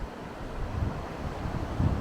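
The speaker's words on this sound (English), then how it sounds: "I'm sure you can hear the waves crashing." Steady surf rolls onto the Lake Michigan shore as a continuous broadband wash, heavily mixed with wind buffeting the microphone, and no voices are heard.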